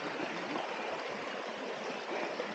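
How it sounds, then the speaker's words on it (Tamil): Steady, full-bodied rush of water spilling down a small mini waterfall outdoors, a continuous broadband roar that stays even and close throughout with no voices. "மினி வாட்டர் ஃபால்ஸ் தண்ணி பார்த்துட்டோம்"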